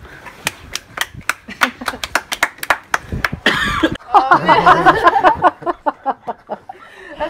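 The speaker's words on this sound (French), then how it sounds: "Applaudis les amis" A small group of friends clap in loose, uneven rhythm, sharp close hand claps broken by a burst of laughter and chatter before the clapping resumes.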